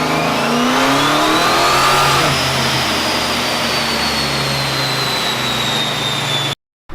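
A 5.7 Hemi engine fitted with a TorqStorm supercharger revs hard on a dyno, producing a loud, sustained roar with a rising supercharger whine that holds steady and then cuts off abruptly near the end.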